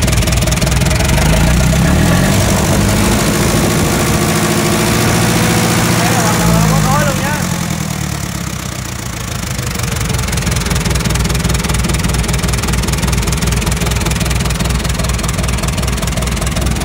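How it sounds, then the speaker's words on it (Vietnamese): A Kubota M6970 tractor engine runs steadily at idle, a loud, continuous low diesel rumble with knocking vibration that dips briefly before resuming, while someone talks over it. "Máy nổ rất là êm luôn đây."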